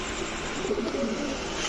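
A pair of Dudh Khaki racing pigeons gives a faint, low cooing amid steady background noise, a brief murmuring call heard at a short distance.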